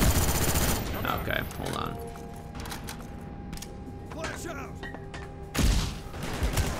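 Gunfire in Call of Duty: Black Ops, with a burst of loud shots at the start, quieter mechanical clatter in the middle and another sharp volley near the end, while a player speaks briefly.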